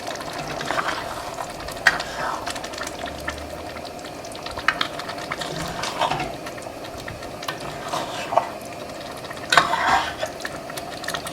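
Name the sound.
stirring chili with red beans in a pot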